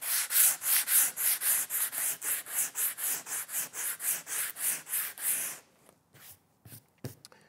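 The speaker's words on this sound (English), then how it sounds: "the final step is to sand the seat. I'm doing it with 60 grit paper" A wooden Windsor chair seat is sanded by hand with 60 grit paper, about twenty close, rhythmic back-and-forth rasping strokes, then a pause with a few scattered light scuffs and taps, no talk.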